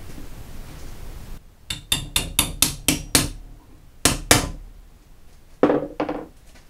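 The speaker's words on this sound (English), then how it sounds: "not supposed to use body hammer for that" A body hammer strikes a rivet while relining Model T Ford bands, a rapid run of about seven sharp metallic blows, then two more, and a last pair of hits, loud and close.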